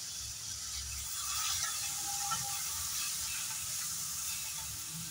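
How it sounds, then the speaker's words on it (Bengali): A soft, steady sizzling hiss of food frying in a pan, constant and fairly quiet, with no voices. "ভালো করে ভাজা হয়ে যাক।"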